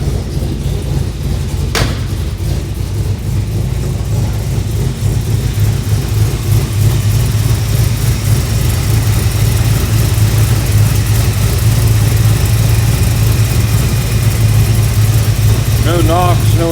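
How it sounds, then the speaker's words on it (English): A 1964 Chevy C10 pickup with side-exit pipes idles steadily, its low exhaust rumble holding even and close throughout with no knocks, while someone talks over it. "No knocks, no anything. Very nice exhaust on the truck. Got a little rumble to it."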